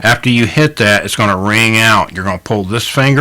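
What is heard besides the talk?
None of the usual background noises is heard.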